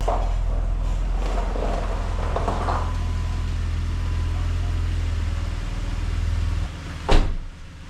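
A BMW 7 Series rolls in close by, a steady low engine rumble sustained throughout, ending with a short knock near the end.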